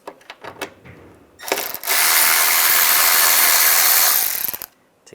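A ratchet turns out a T20 bracket screw during A/C condenser work on a 1999-2005 Volkswagen Jetta, a few scattered clicks then a continuous loud whirring rattle lasting nearly three seconds, close up with no talk.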